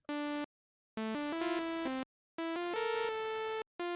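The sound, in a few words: Sylenth synth init preset, notes clashing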